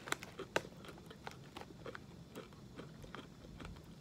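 Santitas cilantro lime tortilla chips get chewed up close, a quiet run of crisp crunches and bites at an uneven chewing rhythm, with no talking.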